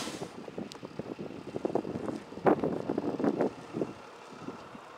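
Gusty wind buffets the microphone on a bike ride home from the Brooklyn town line, rising and falling in uneven rumbling bursts with a brief hiss at the start.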